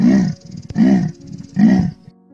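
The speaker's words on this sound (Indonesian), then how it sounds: "Aumannya lebih mirip seperti jaguar." Three loud, close leopard roars, hoarse and sawing like a jaguar's, each lasting about half a second with short gaps between, ending in quiet.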